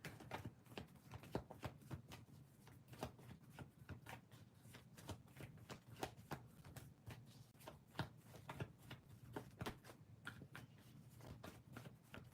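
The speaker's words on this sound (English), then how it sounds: "Give me one moment to shuffle a little bit more." A deck of tarot cards is shuffled continuously in close, quick riffling and slapping bursts with a fairly steady rhythm and no talking.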